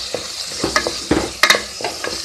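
Tomatoes tumble into a hot pan already sizzling with ginger garlic paste for a mutton kurma, giving a steady frying hiss broken by several sharp crackling bursts and stirring scrapes, close and with no talk.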